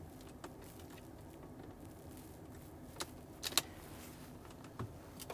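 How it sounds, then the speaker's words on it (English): Creaking and cracking from the interior trim of a 2024 Cadillac Lyriq Sport3 AWD, heard as faint, scattered ticks and snaps, with a sharper cluster of cracks around the middle, over a quiet cabin hush. "the biggest problem is the amount of creaking and cracking that happens in this car"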